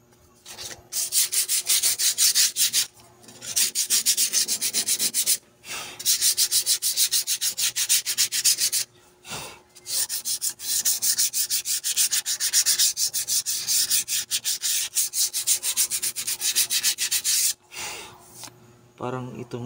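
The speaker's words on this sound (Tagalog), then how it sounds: "Tapos liha natin ng konti" Steady scratchy sanding strokes on a rusty rear brake part of a 2019 Nissan Navara rub back and forth for long stretches, close and loud, with a few short breaks and faint voices underneath.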